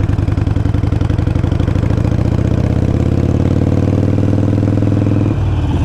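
A motorcycle engine runs loud and close with a steady pulsing throb, its pitch shifting as the rider slows and drops into first gear, with a change in tone just before the end.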